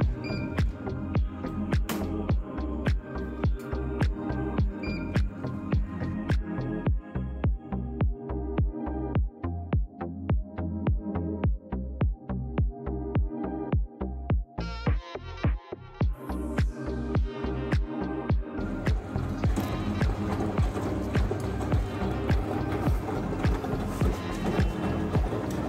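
A front-load washing machine on a cotton cold cycle at 600 rpm tumbles its load, giving a steady, rapid series of rhythmic thumps and clunks that keeps going without pause, ending in a rising whirr.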